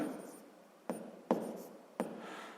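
Pen or chalk strokes writing out a sixth-grade math equation by hand, a few short scratchy marks in quick succession over faint background, close and fairly quiet.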